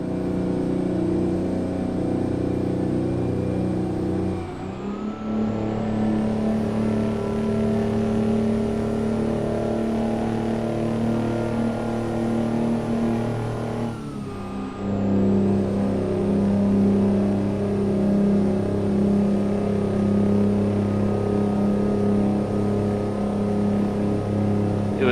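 Mack R two-stroke truck engine in American Truck Simulator, a steady loud diesel drone running throughout with pitch dips near 5 and 14 seconds as gears shift, then pulling back up under load; no talking.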